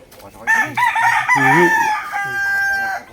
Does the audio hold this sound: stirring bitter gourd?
no